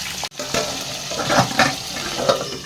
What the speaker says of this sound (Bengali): মাছটা এবার ভাজা হোক এখন ফাটছে আওয়াজ হচ্ছে